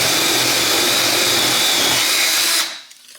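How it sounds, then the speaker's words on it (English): An electric drill bores a small hole through wood and sheetrock in a wall, a loud steady whine that runs unbroken for over two seconds and then cuts off into near silence. "I'm just going to start by drilling a little hole"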